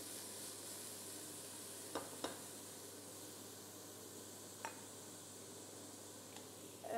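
Garlic goes into hot oil with onions and fries with a continuous soft hiss and sizzle. A few sharp utensil clicks sound over it.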